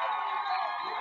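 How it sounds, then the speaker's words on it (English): A football stadium crowd at a college game between CSU-Pueblo and Western Colorado roars and cheers continuously, a dense, loud wash of voices filling the whole moment. "Crowd making a racket here."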